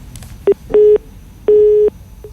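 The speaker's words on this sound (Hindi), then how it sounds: "शाजिया का फोन कट गया है" Once a phone call drops, a busy tone sounds on the line: a short beep followed by two longer steady electronic tones separated by gaps, loud and clean with no voices.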